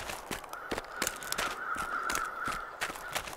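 Crows cawing in The Long Dark's wilderness, a run of sharp, repeated caws at steady intervals over a faint, steady wind-like hiss.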